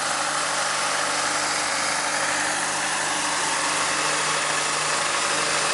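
A Kobelco 330 excavator's diesel engine runs steadily at a highway pipe-boring site, a loud, constant rumbling drone with broadband noise and no talk.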